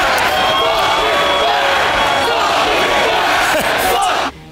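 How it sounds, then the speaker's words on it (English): A massive festival crowd chants against Nickelback during a Stone Sour set, a loud dense roar of many voices that cuts off abruptly at the end. "the massive crowd broke into an F Nickelback chant"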